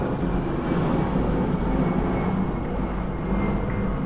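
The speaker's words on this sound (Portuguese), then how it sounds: "Espera o avião passar." An airplane passes overhead, a steady loud broadband engine roar that stays constant throughout without voices.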